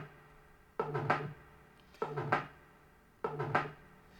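Korg EMX synth playing an 808 bass wave through a PCM comb filter with reverb and compressor, three separate muted, plucky hits with a slightly odd attack and short reverberant decay, evenly spaced and alone.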